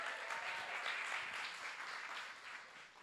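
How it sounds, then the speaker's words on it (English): An audience at a summit claps in sustained, even applause that sounds moderately near and gradually tapers off toward the end. "So can we just give a warm round of applause and welcome to Lorena,"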